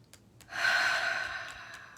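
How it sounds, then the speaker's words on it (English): A single deep breath drawn in close to the mic, a soft airy inhale that swells and fades over about a second and a half, with no talking. "Some nice deep breaths."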